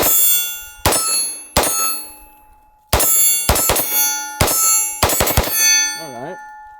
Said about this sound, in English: Not enough energy to knock that dueling tree over.